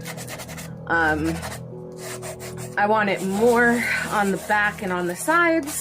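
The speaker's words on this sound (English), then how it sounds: "I might want to get my smaller grain sandpaper for this." Sandpaper rubs over a faux leather journal cover in short, rasping strokes, close and fairly loud, running under and between a woman's speech.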